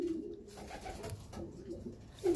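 A racing homer pigeon coos in a few soft, close, throaty phrases, a low rolling call repeated with short pauses between.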